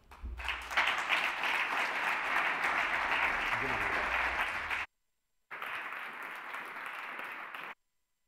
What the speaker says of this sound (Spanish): para quienes pido un gran aplauso